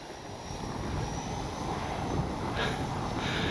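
An Avios Bush Mule V2 RC airplane flies in windy conditions, its propeller engine droning steadily and moderately distant, blended with continuous wind rush and no voices.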